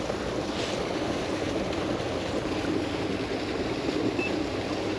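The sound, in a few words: water from pipe blasting onto rock and flowing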